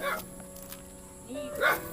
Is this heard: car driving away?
no